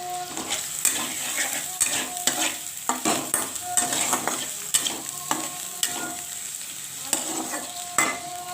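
Tomato mince and dried chilli are stirred in a hot pan with cinnamon, cloves and cardamom, giving a steady sizzle broken by repeated scraping spoon strokes against the pan.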